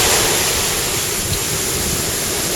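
Unusually high waves break on Lamai Beach, Koh Samui, as a loud, continuous roar of surf fills the air with no pauses and no voices.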